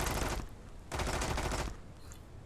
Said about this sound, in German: Ich frag mich ja, wie er durch die Barrikaden da durchschießen kann